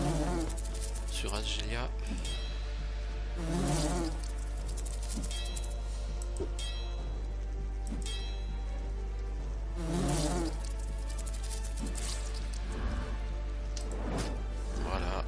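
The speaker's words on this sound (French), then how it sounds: "Alors ici on va liquider ces guêpes." Wasps buzz in a Lords of Xulima game battle, a continuous droning whine that swells and fades in bursts over game music, with a brief spoken phrase.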